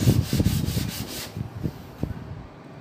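A steel hand plane blade is rubbed back and forth on glass to flatten it, giving a close, gritty scraping in quick repeated strokes that slows and fades to a few final rubs.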